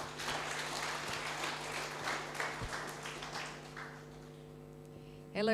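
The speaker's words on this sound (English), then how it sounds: "Give applause to our moderator." Audience applause for the moderator at an international university public lecture, a dense steady clapping over a low mains hum that thins out and fades away after about four seconds.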